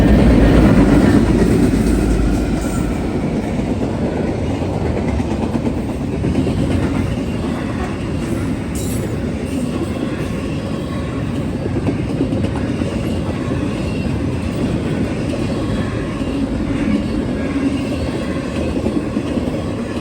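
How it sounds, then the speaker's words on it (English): Norfolk Southern intermodal freight train hauled by two GE Evolution-series locomotives with another unit between them, rolling past on the mainline with a loud, sustained rumble and rhythmic clickety-clack of wheels over rail joints. "It was an NS intermodal with 2 GEVOs sandwiching another ace."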